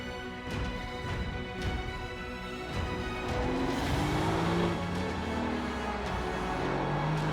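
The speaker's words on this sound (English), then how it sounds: "on the road or the racetrack, the AMG GTS is a source of pure joy" A Mercedes-AMG GT S on a racetrack, its engine note rising and holding steady as the supercar drives past, moderately loud and heard alone.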